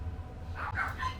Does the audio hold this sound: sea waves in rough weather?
no